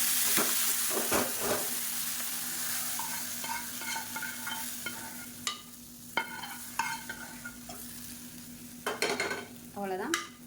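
Radish masala kootu with sautéed onions is stirred in a pan, giving a steady close sizzle with repeated scraping and clinking strokes of a spoon against the metal; no one speaks.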